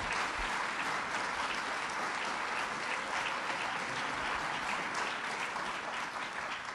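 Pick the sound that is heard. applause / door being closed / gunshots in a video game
applause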